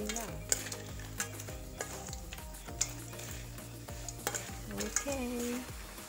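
Banana chips fry in a pan with a constant sizzle while a utensil scrapes and clacks against the metal in repeated stirring strokes, close and clear, with no voices.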